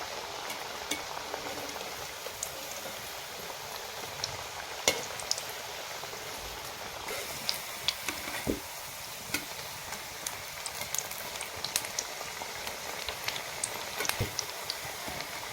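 Onion bhaji fritters deep-fry in hot oil, a steady moderate crackling sizzle with scattered sharp pops and occasional metal clinks from a utensil, close by and without speech.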